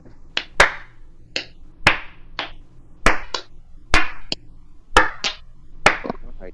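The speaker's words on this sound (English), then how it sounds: "can we give him a slow clap here?" A slow clap: about a dozen sharp, close hand claps land at a slow, even pace, some in quick pairs, each with a short ringing tail. No one speaks over them.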